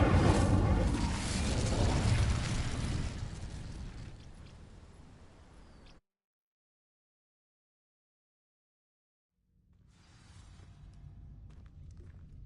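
An Incendio fire spell ignites dry vines in the Hogwarts Legacy video game with a loud roaring whoosh that swells, then dwindles over several seconds and cuts to silence, followed by a faint rumble.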